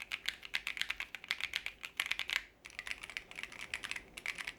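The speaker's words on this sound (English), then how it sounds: "I do like the way this sounds. This banana switch." Rapid typing on a Keychron Q6 Max keyboard fitted with banana switches, a steady run of crisp, close keystroke clacks with a brief pause partway through, heard alone.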